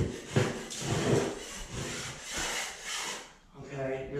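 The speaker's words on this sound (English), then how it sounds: "now I'm just gonna drag my blade this way" A drywall knife blade drags across a popcorn ceiling, making rough scraping strokes that rise and fall in bursts, close to the microphone, with a short pause near the end.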